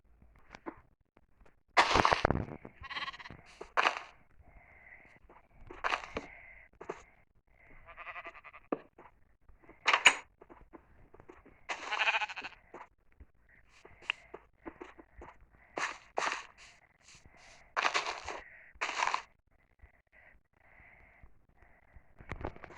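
Sheep bleat repeatedly at moderate distance, scattered calls overlapping at irregular intervals, with faint shuffling between them.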